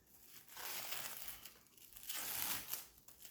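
Plastic wrap being pulled and peeled off a plant pot, close crinkling and tearing in two long bursts with a quieter pause between them.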